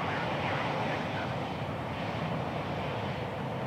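A Boeing 737 in Microsoft Flight Simulator 2020 at Miami International Airport, a steady broadband jet engine roar held at constant loudness throughout, without talk.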